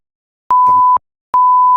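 Two loud, steady electronic censor beeps, each about half a second long, with a brief gap between them, bleeping out speech.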